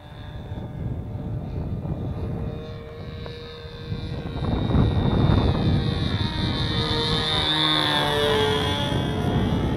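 A Sig Smith Miniplane model aircraft from a 1976 kit flies at a model airfield in Hemet, California, its small engine droning at high pitch and growing louder and nearer midway, with wind noise underneath.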